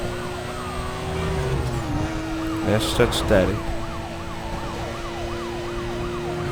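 Police sirens in the Need for Speed Most Wanted racing game wail in repeated rising and falling sweeps over a car engine hum, with someone talking briefly and a couple of crash bursts midway.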